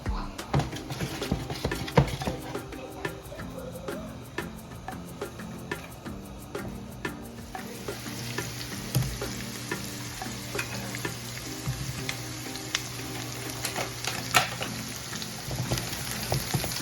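Cherry tomatoes, added to a pan for gnocchi with parmesan cream sauce, fry with a steady busy sizzle and crackle, along with stirring and a few pan clicks, at moderate volume.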